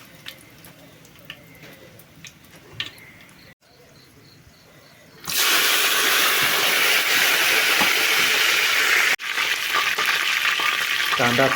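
Whole spices dropped into hot oil for mutton biryani: a few faint clinks and taps, then a sudden loud, continuous sizzle close by that carries on steadily with a brief break near the end.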